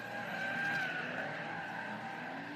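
Drift cars on a second competition run skid with a sustained tire squeal and engine roar, loud and continuous, with a high whine wavering across the screech.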